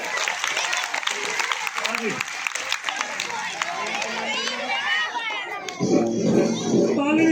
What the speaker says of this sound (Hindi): अरे ताली बजाओ जोरदार।